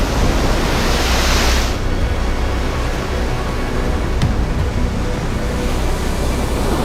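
Sea waves crash against a rugged, rocky shoreline in a loud, continuous roar of surf. The rushing noise eases slightly partway through and has no talking over it.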